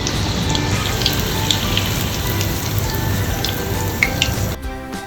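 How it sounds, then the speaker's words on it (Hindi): Chicken popsicles sizzle steadily in medium-hot oil, a dense crackling hiss with scattered pops, loud and close throughout before dropping abruptly at the end. "बस अब इन्हें अच्छे से गोल्डन ब्राउन होने तक फ्राई कर लीजिए।"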